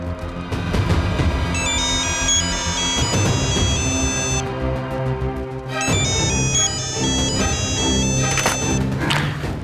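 A mobile phone rings with a bright melodic ringtone during a crime drama scene. The tune plays through twice at close range, loud over a thick layer of dramatic background music.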